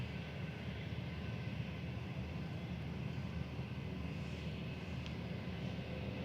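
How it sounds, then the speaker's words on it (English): A 16-year-old Airbus A320 departing Manchester for Heathrow gives a steady, distant broadband jet roar that holds evenly throughout without obvious buildup. "Shuttle 3 uniform departing next, heading back down to Heathrow with flight 1391. This is GEUYA, 16-year-old A320"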